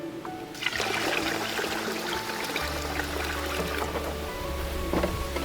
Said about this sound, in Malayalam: ഇനി ഇതിലേക്ക് നമുക്ക് വെള്ളം ഒഴിച്ചു കൊടുക്കാം.